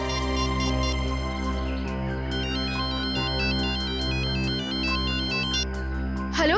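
A telephone ringtone rings out in a tense crime drama scene: a repeating, bright electronic melody of chiming tones that loops steadily and loudly over a low background hum, ending with a brief burst of sound.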